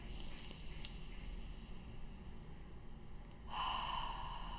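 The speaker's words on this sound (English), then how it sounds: "just inhale that, and I just try to inhale it as long as I can" A slow, deep breath during a breathing exercise is soft and airy at first, then swells into a louder, drawn-out rush of air near the end, close to the microphone, with no talk.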